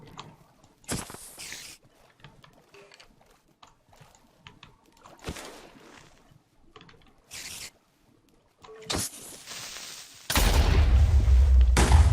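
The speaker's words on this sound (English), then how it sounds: "Okay, if I can get the creeper into the water, at least the explosion won't be too bad." A charged creeper explodes in Minecraft: after scattered game clicks and thuds, a loud, sustained booming blast fills the final two seconds.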